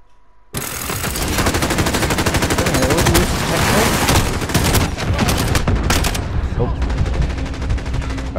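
A heavy machine gun in Call of Duty: Modern Warfare opens up after a quiet moment and hammers out sustained rapid automatic fire, loud and close, running almost the whole way with brief pauses.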